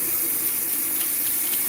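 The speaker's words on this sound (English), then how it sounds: "I gotta turn this water on and wash my hands." A tap runs steadily into a sink for hand washing, a constant close hiss and splash with no voices over it.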